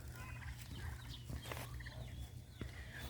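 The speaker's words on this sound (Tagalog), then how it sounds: "Ang white na pabo. Turkeys." White turkeys gobbling and calling softly in the distance at a farm, scattered bird calls over a low outdoor rumble.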